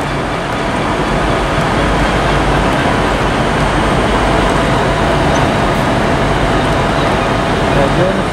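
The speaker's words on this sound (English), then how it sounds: "And partly timing the same time with the Ex Scotrail Western Railway 150, and now down to the platform you go again." Ex-ScotRail Western Railway Class 150 diesel train at Liverpool Lime Street station, a constant loud rumbling roar filling the whole stretch, close by, with no voices.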